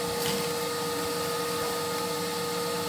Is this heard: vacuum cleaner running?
yes